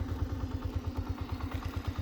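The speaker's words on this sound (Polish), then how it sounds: "Uruchamiamy silnik." A Romet Pony moped engine idles just after starting, a quick, even low putter of regular pulses with a light mechanical clatter, close by and moderately quiet, with no voices.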